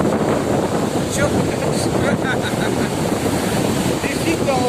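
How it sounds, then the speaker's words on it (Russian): Sea waves wash and crash onto the shore in a continuous loud roar, with strong wind buffeting the microphone and voices faintly mixed in. "Сейчас опять любая гигантская волна подойдет и все."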